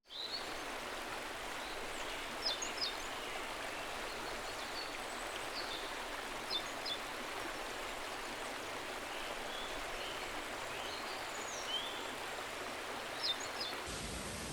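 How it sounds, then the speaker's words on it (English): Rainforest waterfall dropping straight off a cliff into a large pool, a steady broadband rush of falling water at close range with no speech. "So this waterfall that just comes straight off a cliff here into this massive pool."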